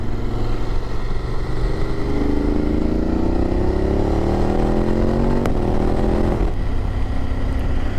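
A BMW F850GS motorcycle engine hums steadily while riding, its pitch climbing gradually under acceleration before a brief gear change and a drop in tone, with constant wind and road noise throughout; no talking.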